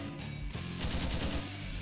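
Machine gun fire from the retro-styled game Iji rattles in rapid, dense bursts, loud and continuous across the short moment with no talking over it.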